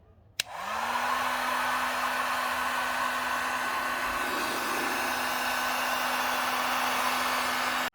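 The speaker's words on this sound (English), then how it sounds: "first thing I'm gonna do is heat up the emblem and the adhesive with the heat gun" A heat gun clicks on and blows with a constant loud whooshing hum, held on the emblem adhesive of a 2016 Audi A7, running steadily close by for several seconds before cutting off, with no talk.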